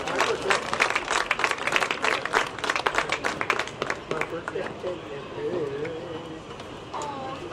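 A crowd at a soccer match bursts into dense, loud clapping that fades out over several seconds, leaving a quieter stretch with a little background murmur.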